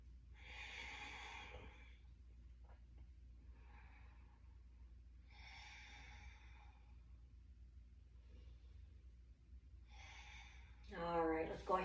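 Slow, deliberate breaths during a yoga balance pose, soft airy inhales and exhales repeating about every two to three seconds, close and quiet, ending with a brief voice.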